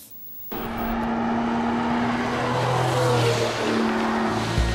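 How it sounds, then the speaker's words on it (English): Porsche 911 sports car engine revving hard under throttle, a loud sustained roar rising and holding steady after a brief quiet start, close by with no talk. "the sound of the throttle, one noise that many car lovers think the louder the better."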